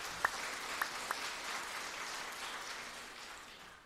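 A church congregation at a Sunday worship service claps to thank the pastor, a faint, distant patter of applause with a few louder claps early on, gradually fading.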